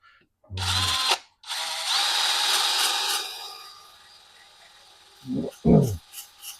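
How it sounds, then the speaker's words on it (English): A power drill spinning a wire wheel grinds loudly against metal on a 1971 Volkswagen Super Beetle in two long bursts, then stops; a few short thumps and knocks follow. "So I just use a wire wheel on the drill"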